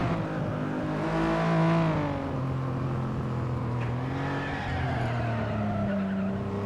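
A car in the racing game FlatOut skids toward a tyre barrier, with its engine droning and shifting pitch under a long tyre squeal, steady and fairly loud.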